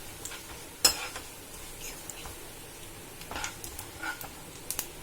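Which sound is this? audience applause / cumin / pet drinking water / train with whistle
cumin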